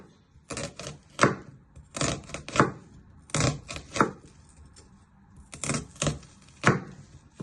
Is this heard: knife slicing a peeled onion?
yes